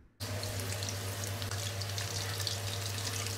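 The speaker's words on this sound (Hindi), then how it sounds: "मीडियम टू हाई फ्लेम पर हमने चिकन को फ्राई करना है कि जब तक चिकन गोल्डन ब्राउन हो जाए।" Marinated chicken pieces frying in hot oil over medium to high flame, a dense, even sizzle that starts abruptly and holds steady and close, with no talking.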